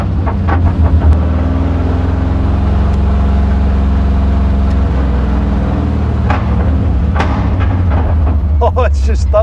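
A Porsche 917 recreation's engine booms under a flyover, a loud, deep, continuous thunder echoing around the structure, with a few sharp pops near the end.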